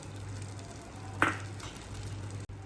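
Cashew nuts frying in ghee make a steady soft sizzle, with one brief louder crackle partway through; no voices.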